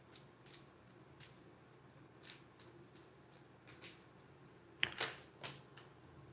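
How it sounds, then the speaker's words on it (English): Tarot cards are shuffled quietly and intermittently, with soft riffling flicks that build to a sharper burst of card slaps near the end. "Mama Taurus loves when I shuffle the cards."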